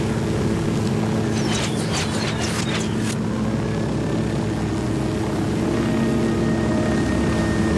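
A helicopter setting down in a video game, its rotor and engine droning loud and steady throughout, with a brief burst of higher-pitched sounds partway through and no talking.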